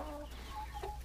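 Young laying hens about 25 weeks old cluck softly in a backyard coop, a short, quiet burst of low fowl chatter.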